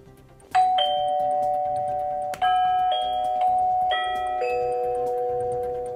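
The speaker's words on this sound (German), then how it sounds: "Wenn ich jetzt hier drauf drücke, müsste es eigentlich klingeln." A two-tone electronic doorbell chime, powered by Sanyo Eneloop AA batteries in C-size adapters, plays, repeating a few times with ringing notes that sustain and overlap, clear and close.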